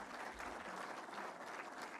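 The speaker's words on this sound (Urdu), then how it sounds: "ان کے لیے آپ بھرپور تالیاں بجائیں" Sustained, dense applause from a large audience at a Pakistani government address announcing electricity relief, steady and loud throughout with no speech over it.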